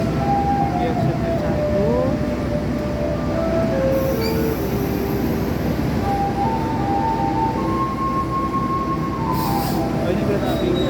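Extra Sembrani passenger train arriving at Semarang Tawang station, with continuous loud rolling rumble and drawn-out high wheel squeals as it pulls in, alongside a station announcement and a person talking.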